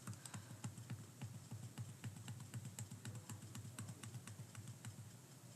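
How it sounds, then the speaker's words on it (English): Rapid, steady keystrokes on a computer keyboard continue throughout, close and quiet, with no talking over them. "If I were to type this into Desmos, it would give me this answer as well."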